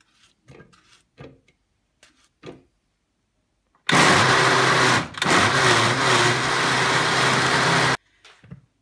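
A blender grinds peeled watermelon chunks for a watermelon cheesecake. It runs loud and steady for about four seconds, stops briefly, then carries on, with short kitchen clatter before and after.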